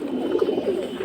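A running-breed pigeon coos softly in a loft, giving a brief, close, low murmuring call.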